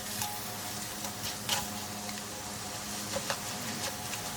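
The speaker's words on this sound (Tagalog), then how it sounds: "haluin na mabuti para magisa" Beef cubes sauté with fish sauce and black pepper in a pan, giving a low, even sizzle with scattered scrapes and clicks of a spoon stirring, close and alone.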